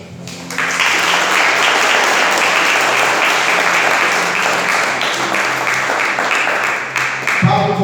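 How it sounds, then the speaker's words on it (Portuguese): A church congregation claps loudly and steadily for several seconds, a full wall of applause with voices mixed in, fading slightly before it stops. "desocupe as tuas mãos e aplauda os céus bem forte"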